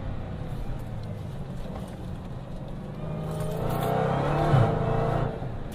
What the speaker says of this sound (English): Flying up to this sharp left-hander,